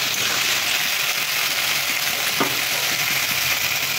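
Okra sizzles steadily in hot oil with chili and cumin powder, a loud, continuous crackling fry heard up close with no one talking.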